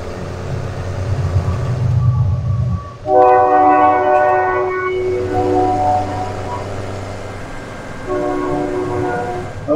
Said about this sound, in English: Sorry about the train, folks.